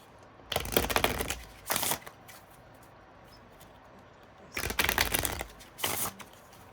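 A deck of tarot cards shuffled by hand, four quick rustling bursts in two pairs separated by a pause, close and fairly soft with no talking.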